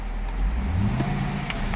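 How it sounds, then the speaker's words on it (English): A 2011 Cadillac CTS-V Coupe engine rises briefly in a short rev, a low rumble climbing in pitch over a steady idle, heard close up. "I'm going to rev the engine."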